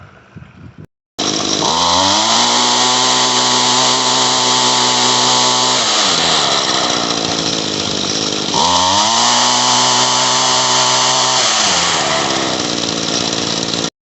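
An Echo GT-251 string trimmer with a fuel line problem runs loud and close, its engine revving up and sagging back twice in an uneven, rough surge after a brief start, with no one speaking.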